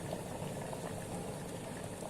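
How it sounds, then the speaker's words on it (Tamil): Cauliflower boils in a pot of water with a steady, dense bubbling that continues throughout, close but fairly quiet. "ஒரு 2 மினிட்ஸ் இதில் வந்து காலிஃப்ளவர் கொதிக்கட்டும்."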